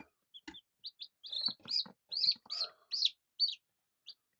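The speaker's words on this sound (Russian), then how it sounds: "Мои маленькие цыпляточки. Малышочки мои." A brood of about twenty young chicks gives short, high, quiet peeps in irregular bursts, close by, with silent gaps between calls.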